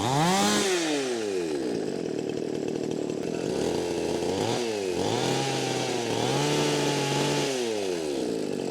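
A Pumpkin chainsaw engine running steadily up close during carburetor tuning at a repair workshop, its pitch rising and falling as the throttle revs and eases off repeatedly.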